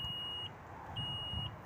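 An Alfa Romeo MiTo Speciale answers its key with two clear, moderately loud electronic beeps, each about half a second long and separated by a short gap, over a low background hum.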